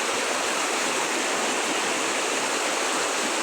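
A waterfall and stream rush with a dense, unbroken roar of flowing water, close and loud throughout, with no voices.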